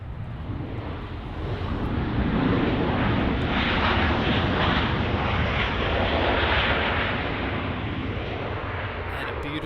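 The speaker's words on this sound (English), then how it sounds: "Departing off 24 left is Southwest flight WN1286 going to Las Vegas, Nevada." A Southwest airliner roars steadily as it departs runway 24 left at Los Angeles International Airport, bound for Las Vegas. The broad jet engine rumble is loud and continuous, swelling slightly and holding throughout.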